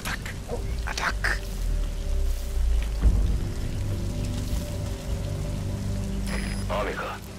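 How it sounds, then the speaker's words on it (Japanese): Steady rain in the video game Metal Gear Solid V, a continuous hiss of falling water that runs through the whole stretch, with low game ambience and brief voice-like sounds on top. "この雨音なら多少の足音はごまかせるだろう。"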